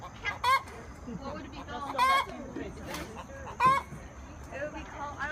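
Chickens cluck and squawk nearby, with several loud, sharp calls standing out over steady lower clucking, while people talk alongside.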